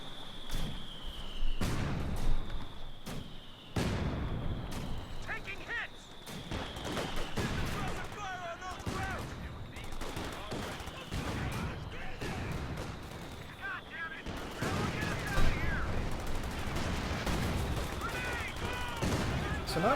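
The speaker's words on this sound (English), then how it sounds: "A bit of a stalemate here with the mortars laying down some bombs" Mortar bombardment and rattling gunfire in a Company of Heroes 2 match, with repeated loud explosive impacts and bursts of shots, mixed with in-game voice chatter throughout.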